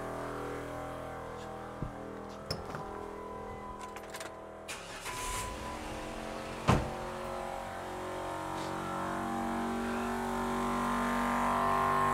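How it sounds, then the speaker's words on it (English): A car engine cranks and catches after a few clicks and thumps, then settles into a low steady idle that grows slightly louder, heard close by in a quiet setting without talk. "Now I'm going to turn on the car."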